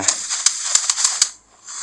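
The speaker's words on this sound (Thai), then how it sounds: "กาโลปล่อยหมัดมา" Garou's punch hitting in the mobile game One Punch Man: The Strongest, a run of sharp, snappy impact cracks in quick succession, then a short drop-off and a return of bright effect noise.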